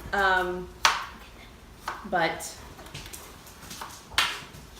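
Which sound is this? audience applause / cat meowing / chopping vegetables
chopping vegetables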